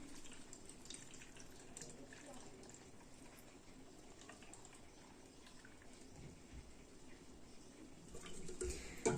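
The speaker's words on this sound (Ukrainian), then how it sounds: "І заливаємо просто водичкою." Cold tap water poured over cucumbers in a jar for fermenting without vinegar, a low steady trickle and splash running the whole time and getting a little louder near the end.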